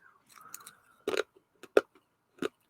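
Brittle old chewing gum from 1979 trading cards is bitten and chewed, giving a few separate loud, crisp crunches close to the mic with short pauses between them.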